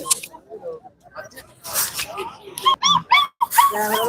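Dogs yip and bark in short bursts, with some whimpering, at a dog farm at a horse fair, while a person talks over them.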